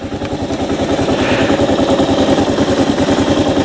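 Honda motorcycle engine running close up, a loud steady idle with a fast, even pulsing throb and no talk.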